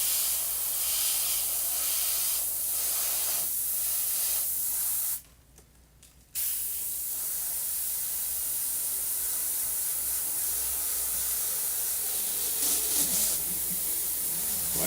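A paint spray gun applies paint over masking for graphics work, producing a loud continuous hiss that cuts out briefly once midway before resuming steadily to the end.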